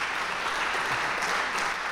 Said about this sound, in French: vous méritez aussi un applaudissement.